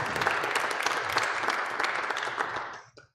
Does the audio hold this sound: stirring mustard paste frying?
no